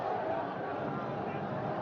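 Crowd noise at an India versus Poland field hockey Olympic qualifier, a steady murmur of spectators beneath a commentator's voice.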